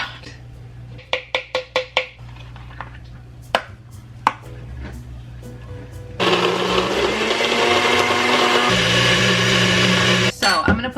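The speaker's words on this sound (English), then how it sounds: "I'm gonna use this blender, and I'm gonna fill up this cup, which is like the blending cup with all of the ingredients" A blender mixes a mango milkshake with ice cream and ice, starting after a series of sharp taps and knocks and then running as a loud steady whir, its pitch shifting partway before stopping abruptly.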